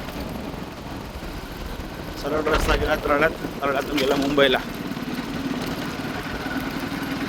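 A vehicle engine drones steadily while riding along the road toward a railway station, a continuous close hum, with someone talking over it for a couple of seconds midway.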